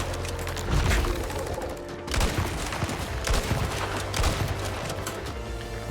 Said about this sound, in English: Yep, it's shooting the boss.